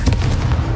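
Confringo blasting spell going off in Hogwarts Legacy, a short loud explosive burst with a couple of quick booming cracks crowding together in under a second.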